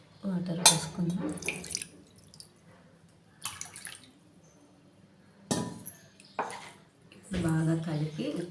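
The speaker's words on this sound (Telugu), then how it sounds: "కొంచెం వాటర్ పోసుకుందాం." Water poured into a pot of homemade rasam seasoned with ground curry leaves comes in several short, close splashing bursts with faint glassy clinks, separated by quiet pauses.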